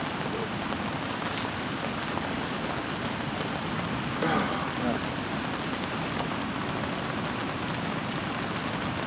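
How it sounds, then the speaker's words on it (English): Steady rain falls throughout, a dense hiss of drops on surfaces with a brief louder burst near the middle, while people talk over it. "And it's raining too"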